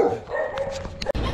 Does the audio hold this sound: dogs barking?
yes